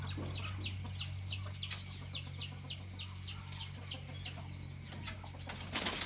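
Repeated soft chicken clucks in a steady rhythm over a constant low hum, with a brief flutter of wings near the end.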